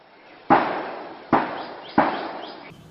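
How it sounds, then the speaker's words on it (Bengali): During an armed raid on a suspected militant hideout in Shibganj, Chapainawabganj, three sharp, echoing gunshot or blast reports ring out at spaced intervals, each fading into a short reverberant tail. "থেমে থেমে গুলি ও বিস্ফোরণের বিকট শব্দ শোনা যায়।"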